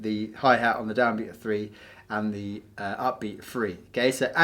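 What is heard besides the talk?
No everyday noise stands out behind the speech.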